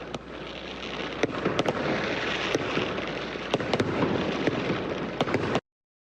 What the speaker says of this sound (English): Fireworks were set off, celebrating the historic win.